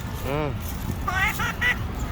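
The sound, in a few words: duck quacking from sound-imitating toy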